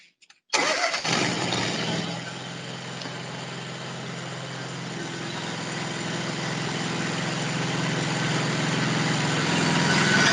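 A PODS Podzilla container lift machine starts with a sharp onset, then its engine runs steadily and slowly grows louder over about ten seconds.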